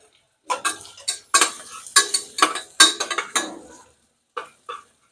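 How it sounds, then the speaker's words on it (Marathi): Tomato and grated coconut get stirred in a pan for a horse gram curry, a series of close, crisp scraping spatula strokes in quick bursts, with a short pause before two final strokes, no talking. "सर्व वस्तू परतून घ्यायच्या"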